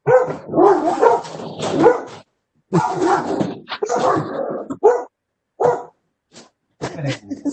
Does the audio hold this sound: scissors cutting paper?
no